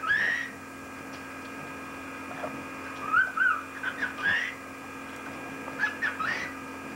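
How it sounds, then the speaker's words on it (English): A pet bird chatters to its toy indoors with short, scratchy warbles and squeaky chirps in scattered bursts, fairly faint over a steady electrical hum. "He's talking to his toy."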